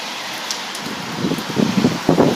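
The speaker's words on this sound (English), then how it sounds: "Again, you can see how bad the water is coming down." Heavy rain pours steadily onto a balcony in a constant hiss, with louder splashing patters thickening toward the end, close and without any voices.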